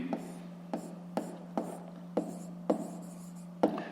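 Pen strokes writing out a fifth-grade math exercise solution on paper come as a quiet, close series of about seven short scratchy taps at an uneven, deliberate pace over a steady low hum.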